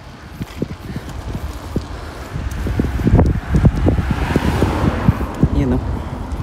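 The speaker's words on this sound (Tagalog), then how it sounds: "Hina tayo may salubong kotse." An oncoming car swells in and sweeps past during a motorcycle ride on a road near Minowa Dam, Japan. A whoosh peaks and trails off under steady wind buffeting and thumps, and a rider's voice is heard.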